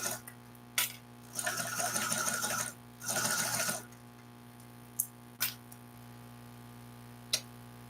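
Sewing machine stitching a bag: two short bursts of rapid needle chatter over a steady electrical hum, with scattered isolated clicks and taps in between, close up.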